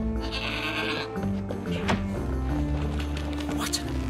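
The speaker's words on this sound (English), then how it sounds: "What an amazing goat!" A goat in the video game Trine 4 bleats in a long, wavering cry over a steady bed of soft game music.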